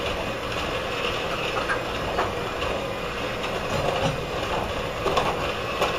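A hand mixer beats two large eggs into apple snack cake batter, a continuous close mechanical whirr that holds steady throughout with no speech.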